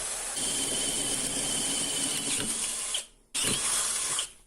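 A 10 mm drill bit cuts into metal with a loud, steady high-pitched whine that squeals at times, briefly stops, then resumes before cutting off near the end.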